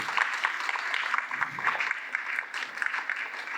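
A seminar audience applauds steadily for a guest, making a dense, even wash of clapping from many hands that stays at a moderate level throughout the short stretch.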